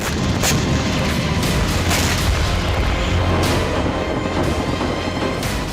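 Loud, continuous rumbling booms and sharp cracks of distant rocket strikes, blasts and gunfire among ruined buildings in Gaza overlap, with several distinct impacts punctuating a dense roar.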